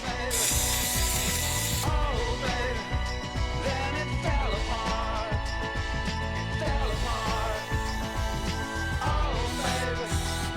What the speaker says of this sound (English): I'm just going to brake clean off any of like the oily fingerprints or any residue that's on these